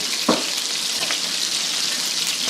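A soft, steady sizzle of butter and cream cheese melting in a pan on low heat for Alfredo sauce, with a brief louder crackle near the start.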